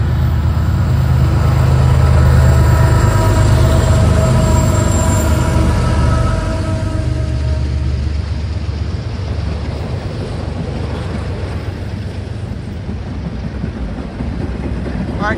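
Loaded freight train M205, a string of empty articulated cars, rumbles past with a deep engine drone and a steady rolling roar that swells early and then eases into a long, even clatter; one traction motor in its locomotive set is out.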